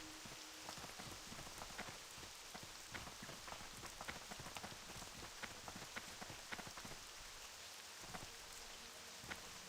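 Rain falling in a video game, a continuous patter with many distinct drops tapping a surface, fairly quiet and steady throughout with no voices.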